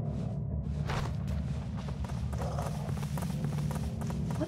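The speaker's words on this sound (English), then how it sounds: "Why is my horse all the way over there?" Hooves clip-clop in an uneven walking rhythm as a horse moves in the video game Weird West, set against a steady low game soundscape, with no talking.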